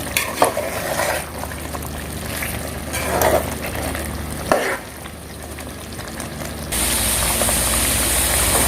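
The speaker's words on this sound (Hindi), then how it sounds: "अब इसको अच्छे से मिक्स करके इसको इस तरह भूनते रहेंगे हम।" Chicken biryani masala is stirred and fried in a pot, a continuous close sizzle broken by scraping spoon strokes against the metal, with a steady hum underneath and no talk.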